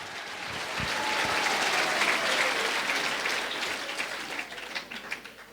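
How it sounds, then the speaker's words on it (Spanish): A church congregation applauds during a Quechua and Spanish language service led by a pastor, with dense, sustained clapping that swells, holds steady, then thins into scattered claps near the end. "fuerte aplauso iglesia"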